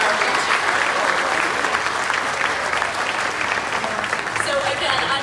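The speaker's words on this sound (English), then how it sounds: "I think it's important to give them a round of applause" A crowd at an outdoor charity walk for dystonia at a zoo gives dense, sustained applause at a steady level from start to finish.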